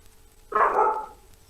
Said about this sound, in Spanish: Que ladró